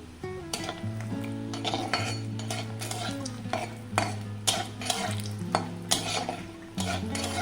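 Dried lentil dumplings (bori) fry in hot oil alongside steady stirring and frequent metallic clinks of a utensil against the pan, with a continuous tonal hum underneath and sharp scraping bursts throughout.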